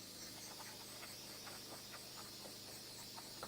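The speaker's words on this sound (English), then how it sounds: "After we inject water, we just spray it" A Hydrafacial machine sprays warm water through its pipe during cleaning, giving a steady, even hiss that holds faintly throughout with slight flutter and no voices.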